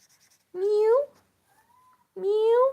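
A young cat, almost a year old, gives two loud, close, rising meows that sound like a crying baby, separated by a short quiet gap with a faint high tone.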